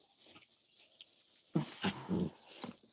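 A dog named Pippi growls and grumbles in a few short bursts while playing with another dog named Kobe, fairly close and moderately loud, with quieter rustling around the noises.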